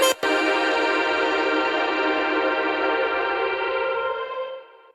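A single vocal hit thrown into a delay and reverb effect, its echoing, distorted tail ringing out for several seconds and slowly fading to silence, with no dry voice alongside.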